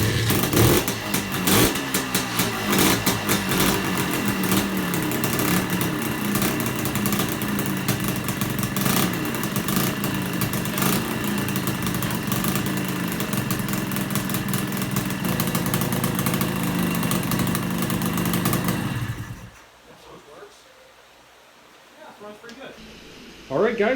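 An engine just restored with cleaned, powder-coated parts runs steadily at a loud, rough idle for about nineteen seconds, then cuts off into near silence before a brief burst at the end.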